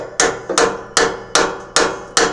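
Six hard, evenly spaced hammer blows ring out on a stuck part of a 1994 MTD 12/36 riding mower, each sharp metallic strike decaying before the next, close and loud with no talking.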